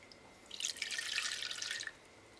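Dry wine is poured from a glass into a pot over a sealed pork knuckle, giving a short, soft liquid splash and trickle of about a second and a half, faint and alone.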